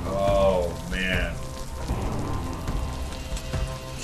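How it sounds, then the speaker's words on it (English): Simulated rain hiss from a film scene fills the background, with a few brief tonal sounds and voices near the start, followed by steady falling water. "Cue the smoke machines and the simulated rain."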